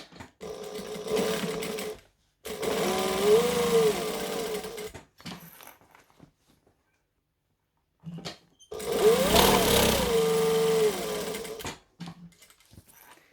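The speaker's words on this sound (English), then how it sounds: "we're going to fold the pocket down like this and stitch all the way around the edges" Sewing machine stitching around the folded edges of a pocket, two long bursts of fast steady whirring close by, separated by a pause with faint handling sounds.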